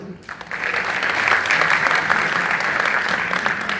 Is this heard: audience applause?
yes